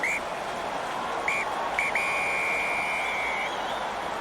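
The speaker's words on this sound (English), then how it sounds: "James Dolman blows the whistle" A rugby referee's whistle at Murrayfield at the end of Scotland v Ireland: two short blasts, a brief chirp, then a long sustained full-time blow over a murmuring stadium crowd.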